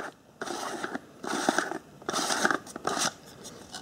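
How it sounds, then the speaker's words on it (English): The plastic bottom of a Bell + Howell Taclight lantern is unscrewed in several close, crackly bursts of plastic-on-plastic grinding and creaking, each about half a second long, with short pauses between. "You unscrew the bottom."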